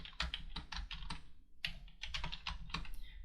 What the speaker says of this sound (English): instead of having to type this all out by hand like this